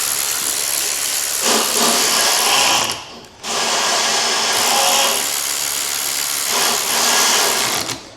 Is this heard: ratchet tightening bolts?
yes